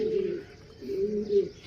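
Racing pigeons coo in low, throaty bursts, one soft phrase early and another swelling near the end, close by and alone without talk.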